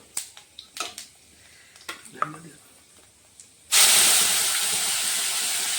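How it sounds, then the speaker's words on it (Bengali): Panch phoron spices hit hot oil with a sudden loud sizzle that sets in abruptly after a few light clinks and taps, then holds as a steady, bright frying hiss close by. "তেলের মধ্যে আমি 5 ফোড়ন দিয়ে দিচ্ছি।"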